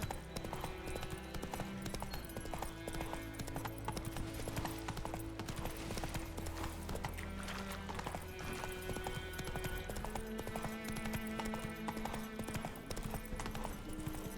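Horse hooves clip-clopping in the video game The Witcher 3, a brisk steady rhythm of hoofbeats under a continuous layer of game music and ambience.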